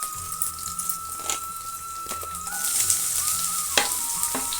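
Chopped onions hitting hot oil in a pan for masala dosa filling, a steady close sizzle and crackle with occasional stirring scrapes, no talking.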